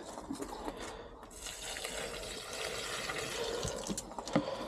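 Bokashi compost liquid pours and splashes steadily for several seconds, a continuous close watery rush, in a garden.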